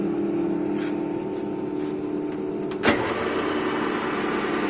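A Colchester 390x1000 metal lathe, spindle speeds from 25 to 2000 RPM with a Norton gearbox, runs with a steady mechanical hum and a sharp click or clunk near the end.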